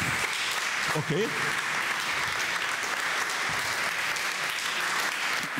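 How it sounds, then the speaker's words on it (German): An audience at a business talk gives loud, sustained applause throughout, with a brief spoken word near the start. "So, gibt's einen super Applaus zum Anfang."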